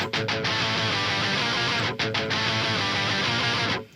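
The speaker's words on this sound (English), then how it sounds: "just octaver sounds like this" A dense, distorted low metal bass tone through an octaver grinds continuously, thickened by a doubled lower octave, with a couple of brief rhythmic stops before cutting off.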